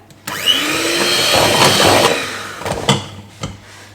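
An electric mixer whirs through lemon loaf cake batter as milk goes in, a loud continuous buzzing drone that starts abruptly, holds steady, then breaks into brief clatters and knocks near the end.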